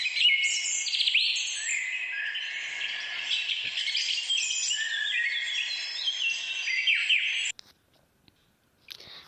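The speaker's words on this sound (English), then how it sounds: "Yes, chirping of birds." Several small birds chirp and twitter continuously in busy overlapping calls, fairly clear and close, before the song breaks off abruptly near the end, leaving near silence with a few faint clicks.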